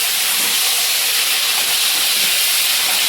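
Young jackfruit frying lightly in a pan for a village-style Bengali dish, giving a loud, steady sizzling hiss that runs unbroken from start to finish.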